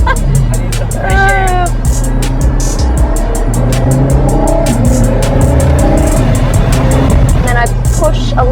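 Aston Martin Valhalla 1050+ hp hybrid hypercar drifting on a track, its loud engine droning and revving steadily with brief tire squeal, while someone talks over it from inside the car.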